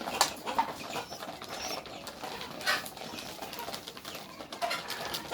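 Pigeons feeding together in the evening, with soft cooing, scattered pecking taps and brief flaps of wings, fairly close but quiet, with no talk.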